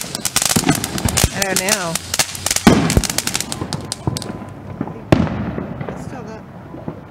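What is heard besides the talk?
fireworks exploding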